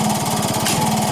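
A small engine mounted on a cart idles steadily with a rapid, even chugging pulse, close and loud, with no talk over it.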